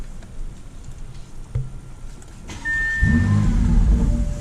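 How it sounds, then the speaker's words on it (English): A Bentley Bentayga with a twin-turbocharged W12 starts quiet, then its exhaust swells into a deep, loud, steady rumble for the last second and a half. "Take a look at the exhaust note real quick."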